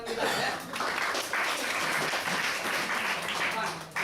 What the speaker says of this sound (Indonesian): Kasih tepuk tangan untuk teman kita ya.